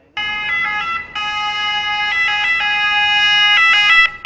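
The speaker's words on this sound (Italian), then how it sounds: "Ecco i soccorsi. Prima l'ambulanza, poi i vigili del fuoco che accorrono sul posto" An ambulance siren wails loudly and close as it arrives at a car crash scene on a Vicenza street, a steady electronic tone with rapid warbling shifts and brief breaks.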